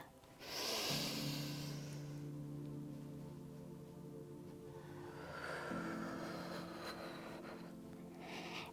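Slow, deep breaths during a yoga flow: a soft airy inhale, then a long hummy, voiced exhale, followed by a second breath cycle, close and quiet with no speech.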